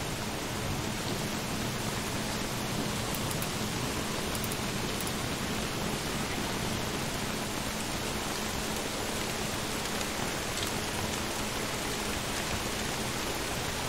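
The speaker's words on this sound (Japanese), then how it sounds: "すげえ雨降ってるけど。" Heavy rain pours steadily across the whole scene in the survival video game Don't Starve: Shipwrecked, a dense, loud, continuous hiss with no talking over it.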